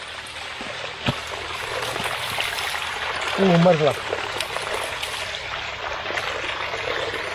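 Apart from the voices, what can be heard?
stream water flowing over black rocks in Scotland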